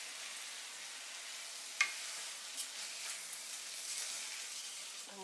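Rice with achiote sizzles quietly as it is stir-fried in a pan for tamales, a soft steady hiss with a couple of faint scrapes of a utensil, and no talking.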